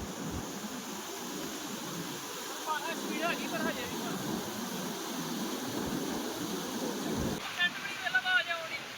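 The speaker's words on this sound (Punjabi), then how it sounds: "ਆਵਾਜ਼ ਚੈੱਕ ਕਰੋ ਤੁਸੀਂ ਪਾਣੀ ਦੀ ਉਧਰ ਕਿੰਨੀ ਜ਼ਿਆਦਾ ਆਵਾਜ਼ ਆਉਂਦੀ ਪਈ" Floodwater of the Ravi river rushes past at a bend, a steady broad roar heard from some distance, mixed with wind buffeting the microphone and faint voices in the background.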